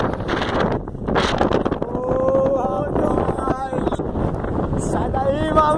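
Strong wind at the sea buffets the microphone with loud roaring gusts, mixed with surf and people talking and shouting.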